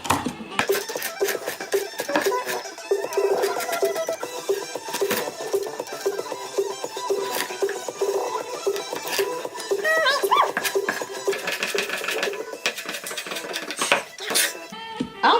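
Knife chopping carrots on a cutting board in a home kitchen, a steady run of close, sharp taps with clattering utensil sounds and a voice speaking intermittently.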